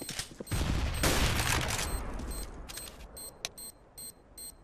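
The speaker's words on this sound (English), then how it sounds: "Throwing a grenade." Gunfire and a grenade throw in Counter-Strike: Global Offensive, a dense burst of loud rapid shots for about two seconds, then scattered single shots and game beeps.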